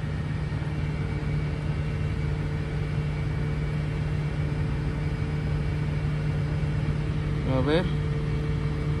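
A 1997 Ford Crown Victoria with the 4.6 engine, diagnosed for overheating, drones steadily at raised revs with a constant humming tone, and someone speaks briefly near the end.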